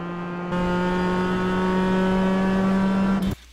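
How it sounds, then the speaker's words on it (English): Mazda MX-5 in the iRacing sim: a steady engine drone that steps up in level as the throttle comes back on, holds a smooth sustained tone, then cuts off abruptly near the end. "Let the car coast a little bit, back to throttle, nice and smooth."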